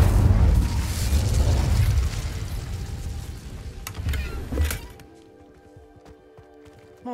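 A fire spell cast in the video game Hogwarts Legacy bursts as a loud whooshing blast with booming low rumble, fading after about five seconds into a quiet ambient hum.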